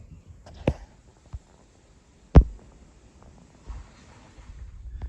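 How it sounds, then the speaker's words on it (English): A Park Tool installation tool is used to pound a star nut into a bicycle fork steerer tube, producing a few sharp metallic knocks, one clearly louder than the rest, in a quiet room. "You just put the star nut in, put this over, and it self guides, and you just pound it on."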